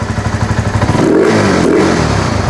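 A Rusi Flash X150 motorcycle engine, fitted with an enlarged intake elbow after airbox removal, starts and idles loudly up close with a steady rapid pulsing putter and a slight rev midway.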